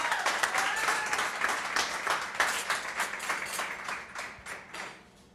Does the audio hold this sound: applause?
yes